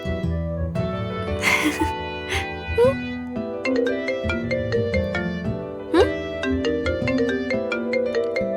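A phone rings with an incoming call, its melodic electronic ringtone repeating in steady musical phrases for several seconds, fairly loud and close, with faint vocal sounds here and there.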